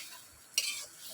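A spoon scrapes once through a spice mixture of turmeric and a little sugar in a pan, a brief close stir over a soft background sizzle.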